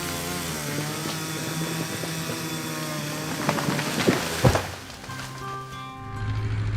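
A forester's chainsaw cutting into a tree in a forest, a steady buzzing engine drone that rises into louder bursts as the cut deepens, then settles back to a lower idle hum, with music playing underneath.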